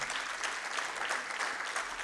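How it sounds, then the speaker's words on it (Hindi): Dense audience applause after a tabla solo concert with harmonium accompaniment, a steady wash of many hands clapping throughout. "जोरदार तालियों से"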